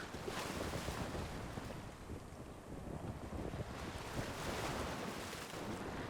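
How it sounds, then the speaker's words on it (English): Ocean waves surge and wash continuously, whipping up sea foam at Kice Island, mixed with strong wind rushing over the microphone, with no voices. "The waves were sure whipping up some sea foam"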